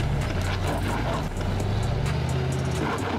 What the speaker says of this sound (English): The hung wheels skid and the vehicle stands still, rubbing away the tires against the rocky soil.